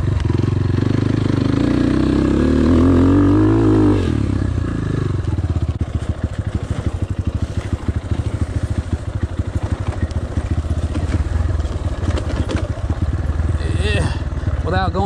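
A GPX FSE 250 E motorcycle rides local trails, its engine revving loud and close, then settling into a rapid chugging throb in second gear, with talk over it.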